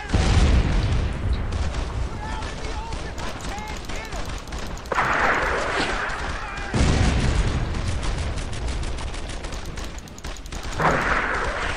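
Gunfire and booming blasts in the World War II shooter Brothers in Arms: Earned in Blood, rattling bursts and explosions mixed with shouted voices over a dense battle din.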